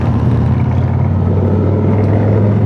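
A Harley-Davidson Road King Special custom bagger motorcycle riding at a steady pace, its engine giving a loud, continuous low rumble throughout with wind noise, close and with no talking.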